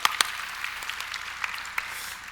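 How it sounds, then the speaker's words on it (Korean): Faint, sparse clapping from a small audience at a keynote panel at a conference, a few scattered claps rather than full applause, heard alone. "박수 부탁드립니다."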